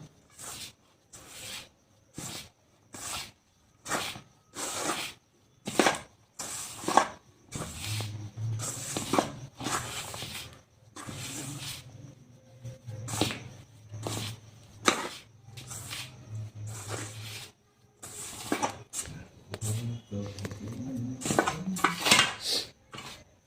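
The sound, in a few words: mixing paratha dough with white oil in a bowl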